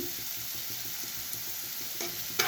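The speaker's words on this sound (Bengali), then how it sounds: "আমি এবারে কষে নেব ভাজা হয়ে গেছে মশলাগুলো" Spices such as turmeric, chilli powder and salt frying in a pan for a Bengali begun bahar (aubergine) dish, with a steady soft sizzle and light scraping stirs, a few sharper clinks near the end.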